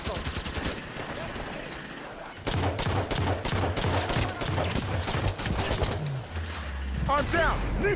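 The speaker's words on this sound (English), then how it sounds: "Turret fire!" Turret gunfire in the Halo 5 Guardians video game: rapid bursts of heavy automatic fire crackle in dense volleys, loud and close, mixed with other battle effects and brief game-character voices.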